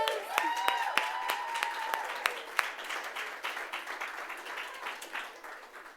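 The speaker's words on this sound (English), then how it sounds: "Let's give them a round of applause" Audience applause at a Mother's Day comedy show as comedians come up on stage, a dense, steady wash of many hands clapping with sharper individual claps standing out and a faint voice or whistle early, fading slightly toward the end.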